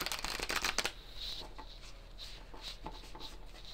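A deck of oracle cards is shuffled up close, giving a quick flurry of dense riffling at first, then softer, scattered sliding and tapping of the cards, fairly quiet and with no talk.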